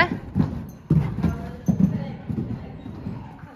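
Horse hooves clip-clop on the ground at a stable during loose jumping, a few separate hoof strikes spaced irregularly, fairly close and moderately loud, with low shuffling and background noise between them.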